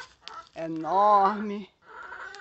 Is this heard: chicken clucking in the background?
yes